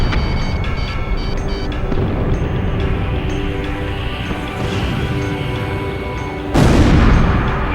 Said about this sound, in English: They're just tossing bombs all over the place.